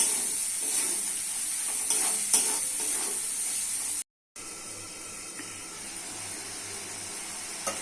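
Spice paste with vegetables such as ash gourd, potato, shrimp and dried fish being sautéed in a pan gives a steady close sizzle and hiss with scraping stirs. A brief dropout of silence splits the sound midway.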